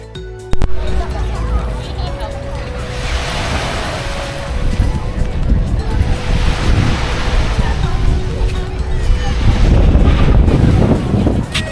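Ocean surf rolling onto a sunny beach on Mykonos, Greece, a steady broadband wash that swells louder toward the end, with wind buffeting the microphone and a faint steady hum underneath.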